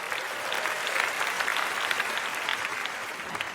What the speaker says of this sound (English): Give all 3 helpers a round of applause.